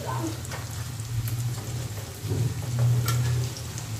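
Chopped onion frying in a pan with dried red chilies and bay leaves, a steady, close, rain-like sizzle and crackle that swells slightly partway through, with no voice over it.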